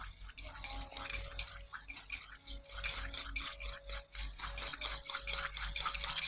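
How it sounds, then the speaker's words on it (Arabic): Homemade body lotion mixture stirred steadily in a bowl, giving a continuous close, wet clicking and swishing texture with a quick repetitive rhythm throughout, no voices. "هنفضل نقلب من 2 دقيقة ل3 دقايق لحد ما نحس ان الخليط بقى كريمي"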